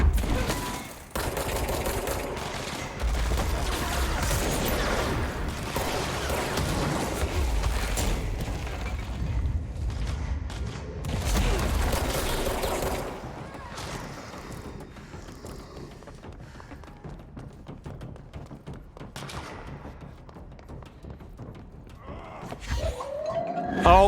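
Heavy, chaotic gunfire from the video game Control, with dense overlapping bursts and booming blasts through the first half, then easing into quieter scattered shots and rumbling combat noise.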